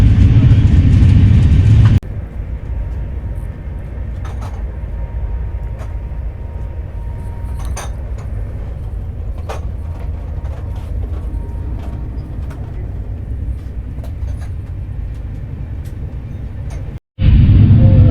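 Shatabdi Express train on the Bhopal route running at about 145 km/h, a steady loud rumbling roar of wheels on rails heard from inside the executive class coach, with brief clunks and a louder rush at the start and near the end.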